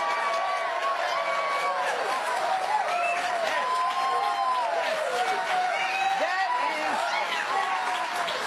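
A television studio audience at a comedy talk show applauds steadily and densely, a sustained wash of clapping with cheering and crowd noise mixed in throughout.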